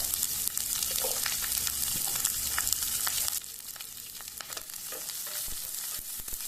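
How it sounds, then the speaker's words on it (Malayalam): Curry leaves and slit green chillies sauté in hot oil for a fish pickle, a steady close crackling sizzle with scraping stirs that softens partway through. "കുറച്ച് വേപ്പില അതേപോലെ തന്നെ ഏഴെട്ട് പച്ചമുളക് നടുവ് കട്ട് ചെയ്തതും ഇതെല്ലാം കൂടെ ഇതിലേക്ക് ഇട്ട് നല്ല രീതിയിൽ വഴറ്റുക"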